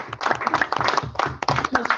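Attendees at a regional housing council meeting applaud in a short, dense burst of clapping from a small group indoors.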